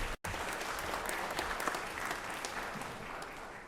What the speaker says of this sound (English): Let's give Kia a big round of applause here for being here today